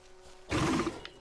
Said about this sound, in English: Oh, what's that? Another wolf?